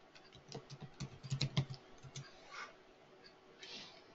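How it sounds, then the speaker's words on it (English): Quick keystrokes on a computer keyboard as a search is typed, a short run of light clicks in the first two seconds, then quieter scattered taps with faint background noise. "what I could do is type in rigor mortis"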